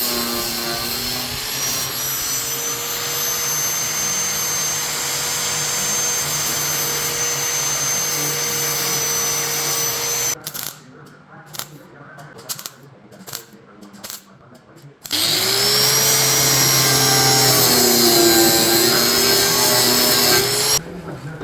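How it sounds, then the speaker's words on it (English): Steady buzzing, hissing MIG welding on steel drones on, breaks for a few seconds of short spot-weld crackles, then a loud continuous grinding whine resumes, during fender rust repair on a 1968 Shelby Mustang GT500. "I'll spot weld in with a MIG welder and then grind smooth"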